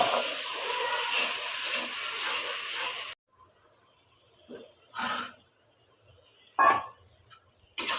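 Hot water poured onto chicken frying with ginger, garlic, onion, chili powder, turmeric and salt, giving a loud steady sizzling hiss that cuts off abruptly, followed by quieter clinks and short bursts of stirring.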